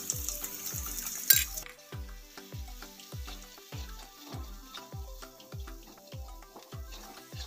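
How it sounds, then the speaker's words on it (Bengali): Masala for egg bhurji curry stir-fried in a pan, a soft sizzle under regular rhythmic scraping strokes of a spoon, roughly two per second, close and steady with no talk. "ভালো করে মশলাটা নেড়ে নেড়ে কষিয়ে নিতে হবে।"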